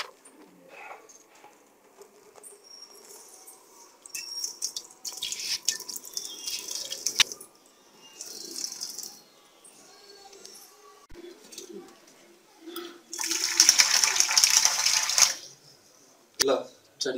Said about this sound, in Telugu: ఈ బంగాళదుంపల్ని లో ఉన్న నీటిని వంపేసి చల్లి నీరుని వేసుకోవాలి.